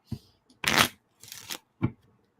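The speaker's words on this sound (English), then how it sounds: "as I was shuffling, my temperance card somehow got flipped over in my deck" A tarot card deck being shuffled by hand, three short papery riffling bursts with brief gaps between them, close and fairly loud with no talking.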